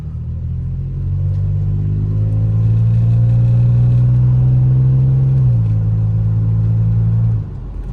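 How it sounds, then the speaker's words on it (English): A lifted 2007 Toyota Tacoma on 33-inch tires idles, then its engine is revved with a little gas into a steady, loud mid-pitched drone that drops back to idle near the end. "I'll give it a little bit of gas so y'all can hear it"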